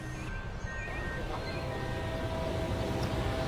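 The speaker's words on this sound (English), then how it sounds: "You can probably hear the train going past behind us." A train passing behind a street scene in Athens: a steady low rumble of rolling rail cars with faint metallic squeals, moderately loud and continuous.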